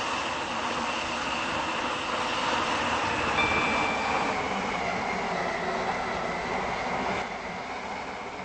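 A four-coach train in the Stepford County Railway video game runs steadily, its loud continuous rumble and hum holding throughout with a faint high whine partway along and no talk.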